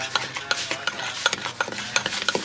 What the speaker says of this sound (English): Just mix it. Oh yeah, mix it together.